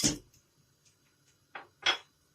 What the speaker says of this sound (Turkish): Margarinimi tencereme koyuyorum.